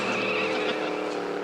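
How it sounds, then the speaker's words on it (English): A car pulls up with tires skidding and squealing, a loud, steady engine roar and broad hiss running throughout without a break. "The wildest looking car I ever saw."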